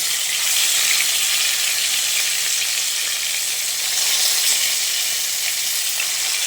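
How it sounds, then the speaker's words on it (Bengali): Marinated rohu fish pieces fry in hot oil and get flipped, a loud, steady, close sizzle that crackles without a break throughout, with no voices. "মাছের এক সাইড ভালোভাবে ভাজা হয়ে গেলে মাছগুলোকে এইভাবে উল্টে দিচ্ছি"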